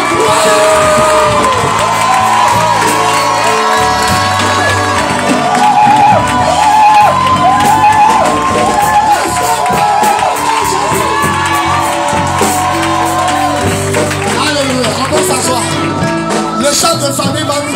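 A church congregation cheers and acclaims Jesus after a reported miracle birth, with loud, sustained crowd cheering, whoops and shouts that fill the space continuously and stay close and intense throughout.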